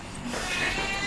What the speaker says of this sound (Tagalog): Ay, nagre-reklamo yung pusa.